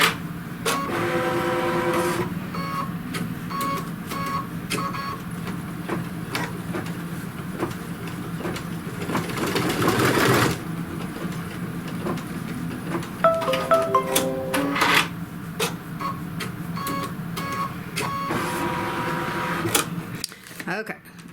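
A sewing machine stitches small tick marks on a wallet pocket piece, a fast whirring rattle running continuously with brief pauses, close up, while a person talks over it.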